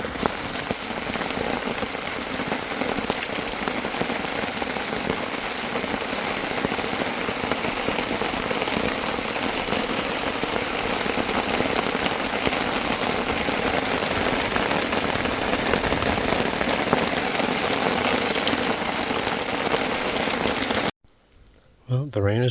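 Steady, dense rain drums on surfaces at a lakeside campsite, continuous and loud throughout, then drops away abruptly near the end.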